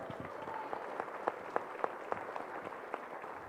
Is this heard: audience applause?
yes